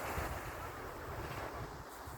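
Waves of the Sea of Azov wash ashore in a soft, continuous rushing surf, faint and steady with light wind noise, no voices.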